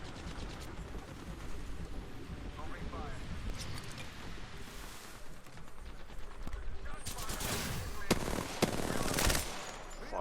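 Video game gunfire including a charge rifle: dense bursts of rapid automatic shots and sharp blasts, heaviest toward the end, with a player talking over the battle.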